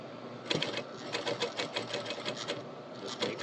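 Close, rapid rhythmic chattering of a sewing machine stitching fabric, with short bursts of needle strokes that run nearly continuously, moderately quiet, with no talking.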